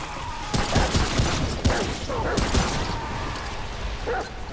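Dog barking in the Remnant video game: a rapid series of yips and barks mixed with whimpers, close and loud, over a noisy game background.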